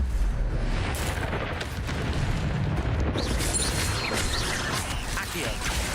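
A fire spell being cast in the Hogwarts Legacy video game: a continuous roaring, rumbling blast of magical flame with crackling bursts and whooshes layered over dense game effects and action noise.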